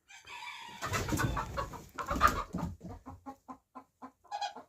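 A hen clucks close by in a rapid, uneven series of short clucks, a few louder squawks at first, then quieter rhythmic clucking.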